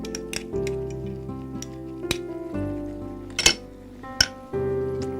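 Yogurt stirred into a paneer, black pepper and soybean shami kebab mixture in a pan, with a low sizzle under a steady hum and a few metallic clinks and scrapes of a spoon against the pan.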